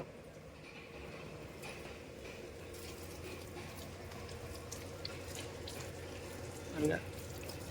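Water sprays onto blocks of ice at an ice factory, a continuous hissing rush under steady machinery hum, with a short louder splash near the end.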